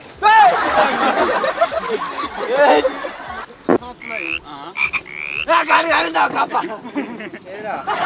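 Frogs croaking in a pool give a few short, rasping calls mixed in among lively nearby talk and laughter, which dominates the sound throughout.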